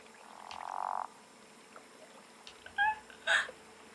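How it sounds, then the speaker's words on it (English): Frogs croak in the open outdoors, a short rasping call followed by two quick, louder croaks nearby over a quiet background. "Are these frogs?"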